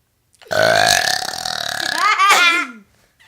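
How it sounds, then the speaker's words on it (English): A girl lets out a long, loud burp in a burping challenge, a sustained belch of about two seconds that rises in pitch toward the end before cutting off. "We're about to have a burping challenge. She's gonna burp first."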